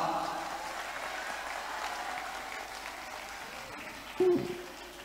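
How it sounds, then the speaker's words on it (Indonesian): Audience applause at a seminar on pesantren in East Java, a steady broadband patter of clapping through most of the stretch, fairly soft and diffuse, with a brief louder thump near the end. "Boleh tepuk tangan untuk Sampang?"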